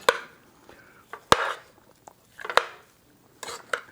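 Spoon knocking against a bowl while loquats are mixed for Persian-style jam, a handful of sharp scattered clinks and scrapes spaced irregularly, close and fairly quiet.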